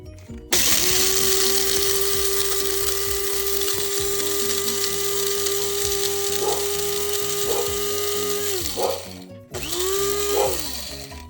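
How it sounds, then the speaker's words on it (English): Herbs being ground to powder in a lidded electric grinder: a loud, steady motorized whir with a sustained tone that runs several seconds, briefly stops, then starts again. "We're going to grind it up into as much powdery as I can."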